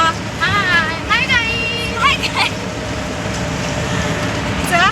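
A steady low rumble of a moving train carriage, with people chattering nearby over the constant rattle.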